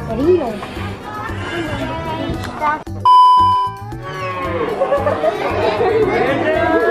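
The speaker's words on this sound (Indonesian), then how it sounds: "Di tempat keempat kita mendengar ada suara sapi" A cow moos amid busy crowd chatter at a dairy farm in Lembang, with a brief electronic chime cutting in partway through.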